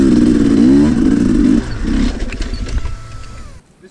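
A 2022 Sherco 300 SE Factory dirt bike engine runs loud and close as the bike is walked downhill, a low rumbling drone with uneven throttle surges that drops away near the end, with clatter over rough ground.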